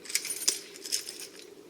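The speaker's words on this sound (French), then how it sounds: "la paire de ciseaux qui fonctionne bien." Small Spyderco multi-tool with a classic blade on one side and scissors on the other, handled and opened: a few light, sharp metallic clicks and clinks spaced apart, close and fairly quiet, with no talking.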